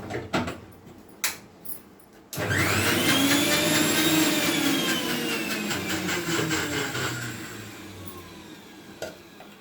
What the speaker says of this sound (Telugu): కొంచెం మిక్సీ వేసి వేస్తానండి